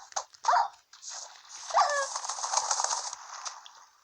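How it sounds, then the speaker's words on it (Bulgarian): Dog sounds from a video game, a few short whimpering and barking calls scattered over a steady synthetic background, fairly close and clear with no talking. "Ето го, моето куче."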